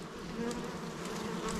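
Honeybees flying around a beekeeper on an afternoon outdoors, a dense steady buzzing drone of many wings close by with no talk.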